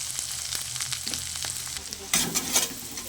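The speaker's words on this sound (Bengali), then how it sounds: "অল্প একটু জল দিয়ে মশলাটা কষিয়ে নেব" Spice paste of turmeric, chilli powder, ground cumin and coriander and green chillies frying in oil for a rohu fish head curry, a steady close sizzle with louder bursts near the end as the mix is stirred.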